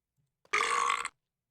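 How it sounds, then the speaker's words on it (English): A single loud, drawn-out burp lasting about half a second, close and clear, with near silence before and after it. "thank you for the burp"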